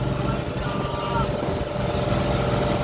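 A boat's engine runs hard at sea, a steady loud drone with wind and water noise held throughout.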